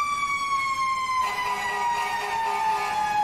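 A fire engine's Q mechanical siren in the EmergeNYC video game, a steady high wail that ramps up and grows louder and richer partway through, continuous and prominent with no talk.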